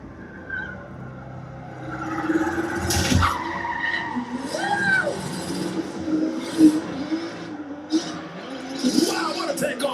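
Drifting car tires squeal in sweeping, pitch-bending screeches on the Hyperdrive show, heard from a distance through a broadcast under excited people talking and cheering over it.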